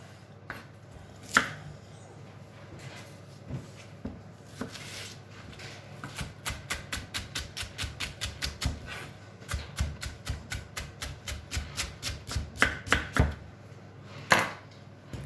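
Onions chopped finely with a knife on a cutting board in a home kitchen, a long run of quick, steady blade taps after a few scattered opening knocks, close and crisp with no talking.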